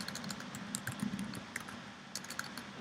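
Typing on a computer keyboard, a steady patter of light key clicks with occasional sharper taps, close and fairly quiet.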